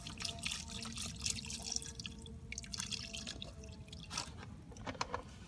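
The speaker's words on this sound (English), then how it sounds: "I'd put a little bit more water because there's a line right here to where you fill it to" Water trickles and drips into an Instant Pot during outdoor solar cooking, a steady watery patter with small splashes close by, carrying on for several seconds with no talking.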